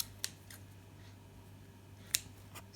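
Scissors snip away loose thread ends from a freshly sewn fabric piece, a few crisp isolated cuts spaced apart, quiet and close against a faint steady hum.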